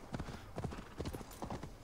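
Hooves of a horse in Assassin's Creed Valhalla clip-clop at a steady walking rhythm, fairly close and moderately quiet, with a faint murmur underneath.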